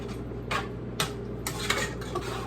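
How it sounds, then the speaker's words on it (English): A spoon scrapes and clinks against a pot of chili with kidney beans in a few irregular strokes over a low hum, close and fairly quiet. "Then you're gonna stir all that shit in. Keep stirring, keep stirring."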